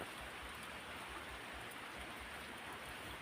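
Steady, even rain pours down on an evening in cold weather, a soft continuous wash of drops with no voices.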